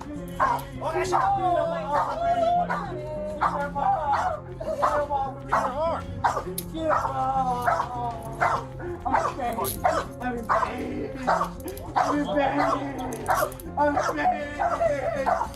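Several police K9 dogs bark and yelp excitedly in quick repeated bursts while tracking suspects through a railroad area, overlapping with shouting voices and general commotion throughout.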